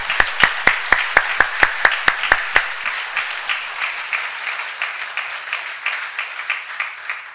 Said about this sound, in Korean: 우리 축복의 박수를 한번 하십시다.